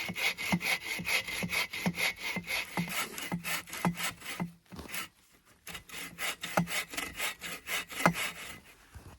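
An Agawa Boreal21 folding bow saw cuts through wood with steady, rhythmic push-pull strokes, close and clear, pausing briefly midway before the even back-and-forth sawing resumes.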